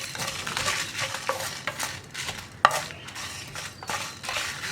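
Dried red chillies, stems removed, tossed into a heating pan for homemade kadai masala powder, giving light scraping, stirring and faint crackling with intermittent clinks of a utensil against the pan, moderately close and without talk.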